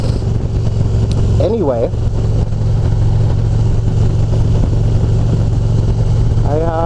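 A motorcycle engine runs steadily near 3,000 to 4,000 RPM, a loud continuous drone with a brief pitch sweep, while a person talks over it.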